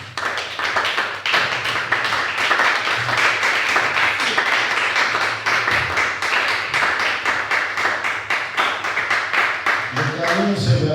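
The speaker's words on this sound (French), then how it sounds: "Applaudissons pour le Seigneur." A church congregation applauding the Lord during a service, dense rhythmic clapping from many hands close by, sustained throughout with voices mixed in and a spoken voice emerging at the end.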